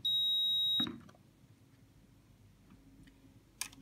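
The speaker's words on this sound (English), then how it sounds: "Switch on the programmer and allow it to power up." A Nittan EV-AD2-EXT address programmer gives one loud, steady electronic beep for just under a second as it powers up, then falls to a quiet hum. A brief click follows near the end.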